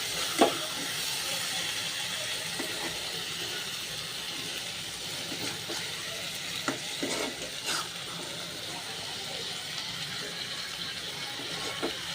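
Fish curry with tomato being stirred in a pan, a steady frying sizzle and hiss running throughout with a few soft scrapes of the spoon against the pan.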